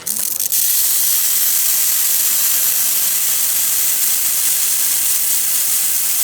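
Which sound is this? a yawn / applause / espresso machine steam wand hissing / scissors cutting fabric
espresso machine steam wand hissing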